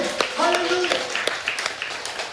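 A church congregation claps in scattered, sharp hits beneath a voice speaking over them, the applause sparse rather than a full ovation.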